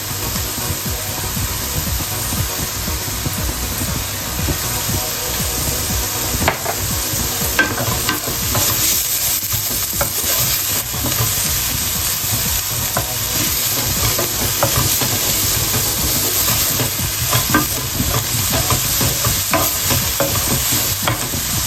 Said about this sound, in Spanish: Y dejamos sofreír para que se poche bien.